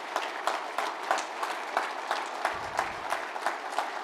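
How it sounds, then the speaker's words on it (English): A round of applause at an Iowa renewable fuels awards event honoring the governor, with moderate, evenly paced clapping from a modest crowd and a brief low rumble partway through. "One more time, please, a round of applause."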